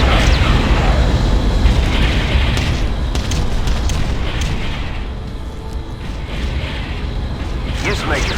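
Heavy rumbling explosion of a destroyed enemy hoverdyne in the real-time strategy game Ground Control, a dense boom with mechanical debris and battle noise throughout, loud and sustained.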